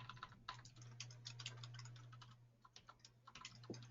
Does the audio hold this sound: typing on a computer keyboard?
yes